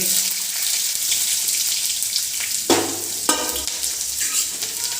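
Onions frying in a pan with whole spices for Odisha ghanta tarkari give a steady close sizzle and hiss throughout, with a couple of sharp stirring scrapes midway.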